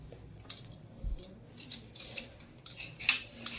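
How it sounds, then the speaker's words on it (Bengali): Cucumber and tomato being cut for a salad, heard as a series of soft, irregular crisp slicing clicks and scrapes close by, with no talking. "চলো বন্ধুরা শশাটা স্যালাডটা কেটে নিই শশা টমেটো"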